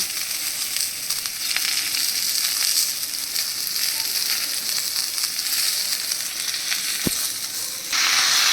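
Pointed gourd pieces fry in oil with turmeric for a shukto, giving a loud, constant hissing sizzle up close with a single sharp click near the end.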